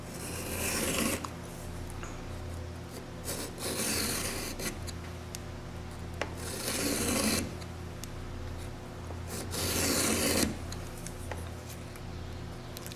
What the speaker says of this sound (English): we can just move our body to the other side of the saw and finish the sharpening filing process.